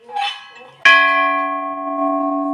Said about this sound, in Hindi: तो चलिए घंटी बजा लेते हैं।